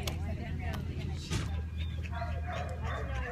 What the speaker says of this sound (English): Oh, I can hear Alice all the way in the puppy building.